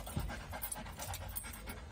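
A female dog pants in quick, rhythmic breaths close to the listener, quiet but continuous, in a room where car accessory work is going on.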